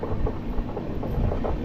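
The Duronto Express, AC train 12261 from Mumbai to Howrah, rumbles past at dawn in winter fog, a loud, low rolling roar with rhythmic pulses from the carriages close by.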